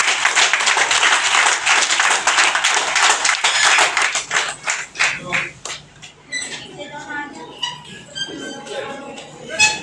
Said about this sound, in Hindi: एक बार खड़े होकर के उनका जोरदार तालियों के साथ में उनका अभिनंदन करें।